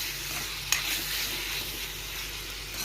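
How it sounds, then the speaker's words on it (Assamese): Fish laid into hot oil with fried onions sizzles steadily and close by, a continuous crackling hiss with one sharp pop early on. "পিছত ইয়াতে মই ভাজা পিঁয়াজখিনি মই মাছখিনি বহাই দিলোঁ।"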